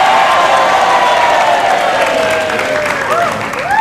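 Loud, sustained applause from a large TV studio audience, dense clapping filling the whole clip with scattered cheers mixed in.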